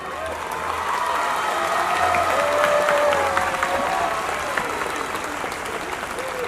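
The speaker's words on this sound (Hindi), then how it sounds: "तालियों से बोलेंगे अजय सर के बारे में?" A crowd at the CWC 41st Annual Day Function gives Ajay Sir sustained, dense applause mixed with cheering, a loud, steady wash of clapping that carries on throughout, with voices rising through it.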